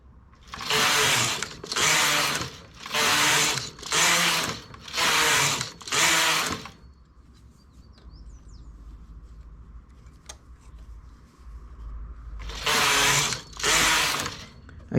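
A knitting machine carriage sweeps back and forth across eight rows at high tension, giving six loud rhythmic whooshing passes, a quiet pause, then two more passes.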